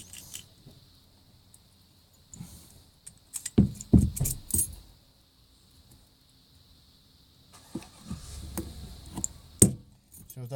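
Keys and small pins jangling and clicking while Kwikset lock cylinders are rekeyed, two bursts of close metallic rattling separated by near quiet, with no talk.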